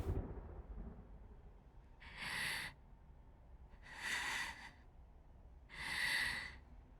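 Three low, breathy thunder rumbles from a storm in the video game Sword of Convallaria, each swelling for under a second and fading, spaced about two seconds apart over otherwise quiet background.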